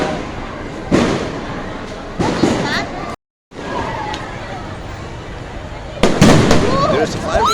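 New Year fireworks burst over SM Baguio, with several loud booming bursts followed by crackling tails and a short gap of silence, while a crowd babbles in the background.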